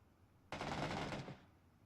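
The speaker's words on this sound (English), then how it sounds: "Sharp fire to my south." Automatic gunfire in the battle-royale game PUBG: one sustained burst of rapid shots about three-quarters of a second long, loud and close, after a short quiet stretch, with no talking.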